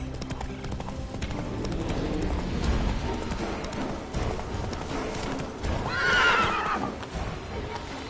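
Roach, Geralt's horse in The Witcher video game, gallops with steady clip-clop hoofbeats over a busy in-game soundscape, and a loud whinny rises near the end.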